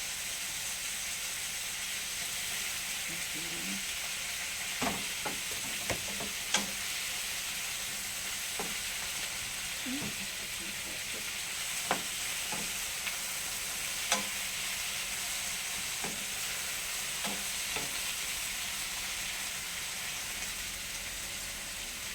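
Shrimp paste (alamang) stir-fried in a pan, with a steady broad sizzle and hiss running throughout, punctuated by scattered sharp clicks and taps of a utensil stirring against the pan; no talking.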